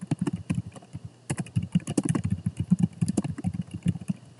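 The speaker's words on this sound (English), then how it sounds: "now I can click anywhere on the chart and start typing" Rapid clicking of a computer keyboard as text is typed into a presentation text box, close and crisp, in uneven bursts with a short pause near the start, no talking.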